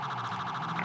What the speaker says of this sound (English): that is a really loud and annoying siren